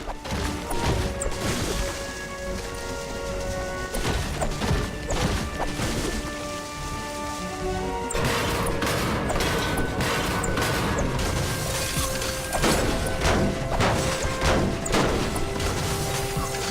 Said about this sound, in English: Try smashing up some cars and trees.